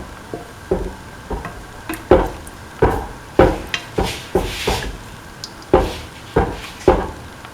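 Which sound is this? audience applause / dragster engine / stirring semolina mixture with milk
stirring semolina mixture with milk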